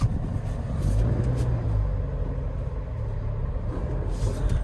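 A stuck 4x2 car sits bogged down with its engine revving steadily and losing traction, a loud continuous rumble that swells slightly near the start and holds throughout, with no one speaking.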